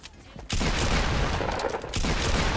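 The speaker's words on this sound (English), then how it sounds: "Another team shooting." Dense, loud bursts of gunfire from an opposing team in a Fortnite battle royale match, sustained volleys with a brief lull midway before the shooting resumes just as intensely.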